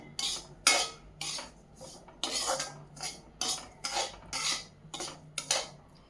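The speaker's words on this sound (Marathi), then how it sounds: "म्हणून साधारण 10 ते 12 मिनटं रवा भाजून घ्यावा." A metal spoon stirs semolina being dry-roasted for rawa ladoo, making repeated rhythmic scraping strokes against the pan about once a second. It is close and fairly loud, with no talking.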